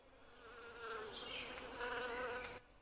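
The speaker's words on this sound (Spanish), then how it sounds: "junto a los nidos de las hormigas de cartón se instalan con frecuencia unas avispas muy particulares, las polibia" Polybia wasps near carton ant nests in the rainforest, a faint continuous buzzing drone that swells slightly midway, with no voices.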